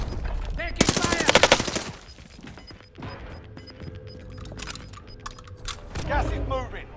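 Rapid automatic gunfire bursts ring out in the Warzone battle royale game, loud and close at first, then scattered shots and mechanical clicks as radio-style voice callouts talk over the action.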